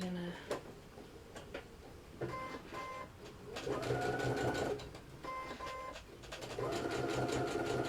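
A sewing machine stitches fabric for a Kindle case in bursts, its rapid mechanical whir starting and stopping, with longer runs toward the end, loud and close in an indoor room.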